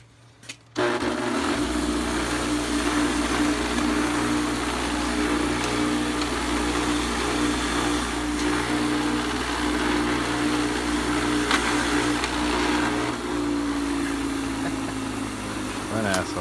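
A bench grinder with a wire wheel cleans the threads of rusty bolts, spinning up abruptly and then holding a steady loud whirring drone with faint scraping as the bolts are worked.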